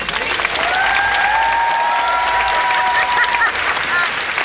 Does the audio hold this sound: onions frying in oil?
no